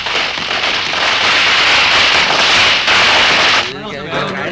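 A string of firecrackers crackles loud and dense for several seconds, then thins out and drops away near the end as voices come in.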